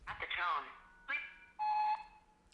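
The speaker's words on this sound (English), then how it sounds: "there's a keyboard shortcut that lets you jump directly to the beep like this." Answering machine greeting skipped with a keypad shortcut on a phone line, a short electronic chirp and warbling tones leading into a steady beep tone that holds for about a third of a second, heard faintly over the line.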